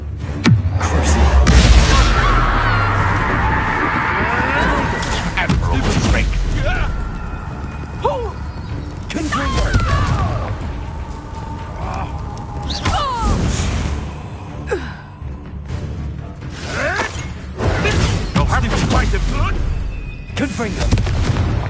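Repeated Confringo blasting spell explosions in the Hogwarts Legacy video game, several loud booms and bursts spread across a chaotic fight with gasps and voices in between.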